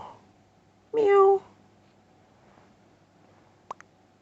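During an Among Us game, a player's voice imitates a cat with one clear, nasal meow lasting about half a second, followed by quiet background and a couple of brief clicks.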